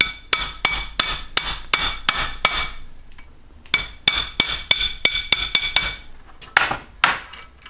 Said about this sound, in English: I got a little punch, it's got an edge on it. And I'm just going to set it down in there and tap that